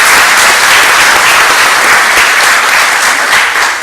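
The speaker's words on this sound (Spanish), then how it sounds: "Yo pido un aplauso para los expositores que lo han hecho" Loud, sustained applause from a conference audience at an international arbitration congress in 2010, a dense, steady clatter of many hands that continues without break for several seconds.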